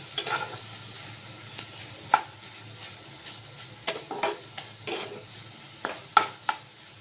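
Kochur lati (taro stolons) cooking in a pan over low to medium heat: a soft steady sizzle with intermittent scraping stirs and clinks of a spatula against the pan, no talking.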